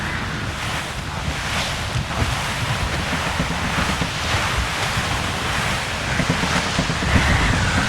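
Rough squall at sea in Assassin's Creed Rogue: steady roaring wind and crashing surf around a sailing ship, loud and continuous throughout with no voices.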